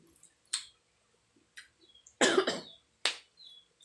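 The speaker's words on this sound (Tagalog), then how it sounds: "inuubo talaga ako" A person coughs several times in short, separate bursts, with one louder, harsher cough in the middle and quiet pauses between, close and fairly faint in a quiet room.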